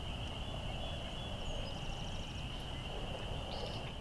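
Calls of an elusive bird at dawn in northern Michigan wetlands, rising as a faint, distant gobbling over steady wetland ambience and a constant high insect-like drone, with no talking.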